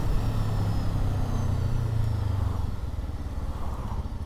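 A Kawasaki Z7 Hybrid motorcycle riding through city streets, a steady low engine and road drone with rushing wind noise, fairly close and without speech.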